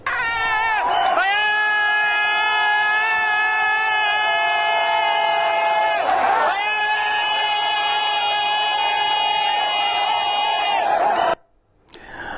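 A crowd greets President Patrice Talon on a walkabout, a loud sustained chorus of shouting and whooping voices with a steady pitched drone, swelling twice before cutting off abruptly near the end.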